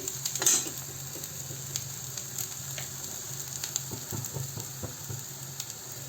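Patvadi masala sautéing in hot oil in a pan for a Marathwada-style patvadi rassa, with a steady sizzle and scraping stirs of a spoon sounding close and continuous throughout.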